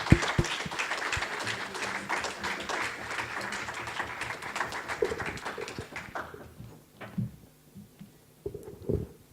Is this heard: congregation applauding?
yes